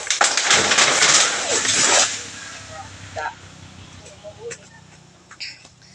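A noisy scuffling burst, then a few short, soft chicken clucks scattered over quieter background noise.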